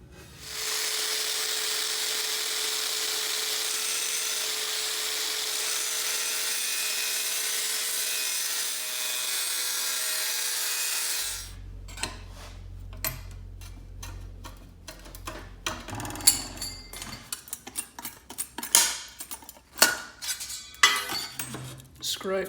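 Sheet metal being cut for a toolbox lid: a steady harsh buzzing cut runs for about eleven seconds, then stops and gives way to scattered clanks, scrapes and rubbing of the metal piece.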